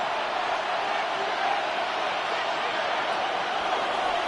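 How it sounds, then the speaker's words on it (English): Steady wall of stadium crowd roar from a football video game, a dense continuous wash of cheering with no breaks, as a third down approaches, heard under a commentator's voice. "This crowd into it now as we get to third down."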